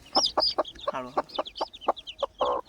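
Native country chickens and young chicks on a farm in Talegaon cluck repeatedly in short, close bursts, with a longer squawking call in the middle.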